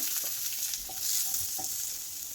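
Sliced onion with cinnamon and peppercorns frying in a pan, a soft continuous sizzle with a few faint stirring taps, fairly quiet and steady with no talking.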